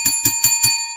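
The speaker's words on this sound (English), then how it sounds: "Let's ring the bell for a great team victory" A celebratory bell rings out for a Falcons team victory in four quick, bright metallic strikes, close and loud, with a sustained ringing tone lingering after the last hit.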